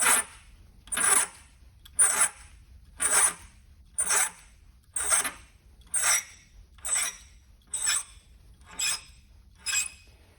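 A reamer rasps back and forth through a bushing on a Ford Model A in regular strokes, about one per second, a gritty scraping repeated steadily at close range with no talking.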